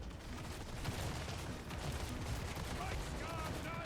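Hell Cannons fire in a loud, dense fantasy video game battle, giving a steady barrage of booming, crackling blasts with scattered impacts running right through.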